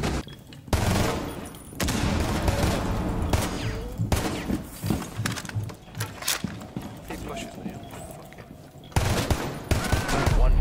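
Bursts of rapid gunfire in Rainbow Six Siege, loud repeated volleys with brief gaps, mixed with excited players shouting over the shots.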